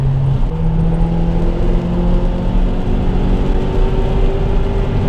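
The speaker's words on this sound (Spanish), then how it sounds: "todo lo que escuchamos viene de la parte delantera, del motor." A Mazda 3 MPS engine runs steadily at a low, throaty rumble, loud and close, with a slight rise in pitch as it revs.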